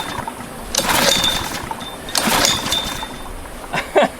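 A Honda GC160 engine on a generator is pull-started with the choke on: two or three rasping recoil pulls with brief sputters, close and fairly loud, with no steady running.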